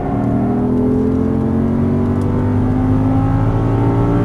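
An Audi R8 V10 accelerates hard out of a turn on a racing-school track, its engine a loud, steady drone with rising harmonics held close and continuous, no speech over it.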